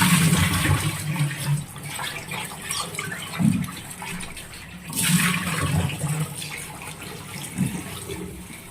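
Water splashing and running as sliced bitter gourd is rinsed in a bowl, a steady close wash with a few louder sloshing bursts, no talking.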